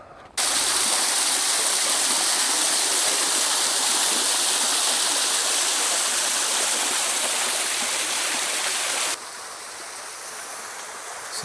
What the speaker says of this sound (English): there's plenty of running water around here